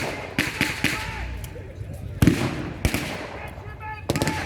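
Blank-fire gunshots from British troops at a 1940s WW2 battle reenactment at Quex Park, several sharp loud reports spaced irregularly across a noisy outdoor field, with a commentator talking over them.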